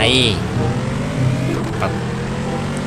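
SRT Hellcat muscle car in the Car Parking driving game, engine revving hard during a tire burnout, a loud steady roar with rising pitch sweeps throughout.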